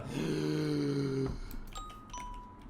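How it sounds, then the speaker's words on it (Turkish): A doorbell in the Minecraft video game rings once, a sustained chime that cuts off and gives way to brief higher electronic tones, sounding fairly clear and close with no one talking. "Zile bir kere bastım."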